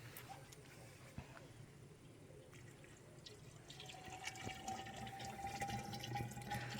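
Water is poured into honey to make mead, a soft trickling and splashing that grows steadier and fuller in the second half. It stays fairly quiet and close, with no voices.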